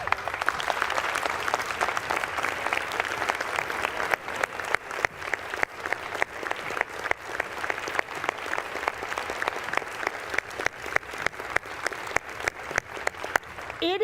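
Applause fills the House chamber during a speaker battle, a steady, dense clapping from many members that runs for the whole stretch, close and even in level, with scattered sharper claps standing out near the end.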